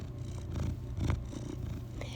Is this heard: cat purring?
yes